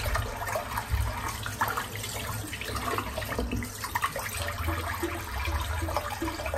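Tap water running steadily while a head is wetted during a shave, a continuous close splashing hiss with small irregular splashes as the water hits skin and the sink.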